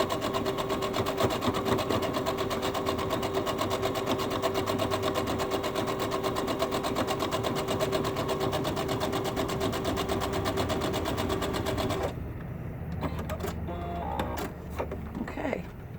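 A sewing machine runs steadily, stitching a seam on a cap with a dense rapid mechanical rhythm for about twelve seconds, then stops, leaving quieter handling and rustling sounds.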